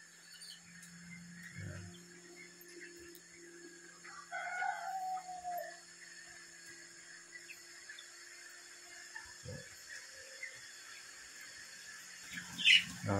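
Chickens in a long poultry house holding several hundred birds, with scattered squawks, clucks and a distant crow over a steady background hum, some birds nearer and louder than others.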